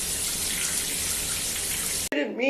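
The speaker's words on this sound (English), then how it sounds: "I think I can hear someone in my shower" A running shower pours a steady, dense hiss of water for about two seconds, then stops abruptly, followed by a short burst of chirpy vocal sounds.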